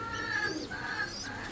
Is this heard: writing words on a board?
no